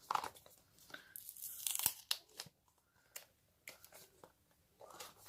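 iPhone 11 earphone packaging is opened up close, with irregular bursts of tearing, crinkling plastic and paper crunches separated by short quiet gaps.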